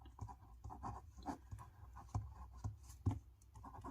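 A pen scratches on paper during a class 6 maths lesson, with soft, faint, irregular strokes and taps close by.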